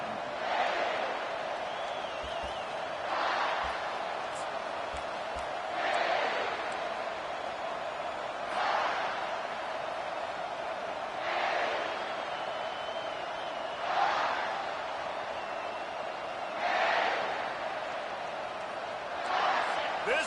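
College football stadium crowd, a broad roar that swells and fades in a regular rhythm of waves, chanting across the stands at moderate distance.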